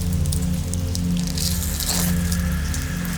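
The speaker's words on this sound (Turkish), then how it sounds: "Dışarıda yağmur yağar." Steady rain falling outside, a dense, even hiss of drops that holds for the whole stretch, with low sustained tones droning underneath.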